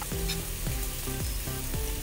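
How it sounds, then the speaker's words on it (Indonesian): Fried chicken wings sizzle steadily in a pan as they braise, a dense continuous crackle with repeated low scraping stirs roughly every half second, close and loud with no talking. "ini sayap ayamnya yang udah goreng tadi aku masukkan. Setelah itu aku ungkep nih teman-teman ya"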